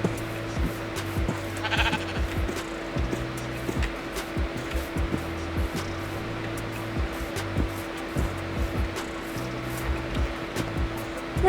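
Sheep bleating in the Minecraft video game, with short repeated bleats coming at irregular intervals over a steady background tone and music-like drones, and no talk.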